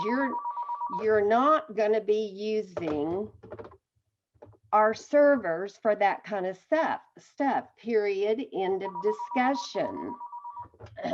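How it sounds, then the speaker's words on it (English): A telephone rings in repeated steady electronic bursts at the start and again near the end, sounding over continuous conversation between people. "Excuse my phone, it rang."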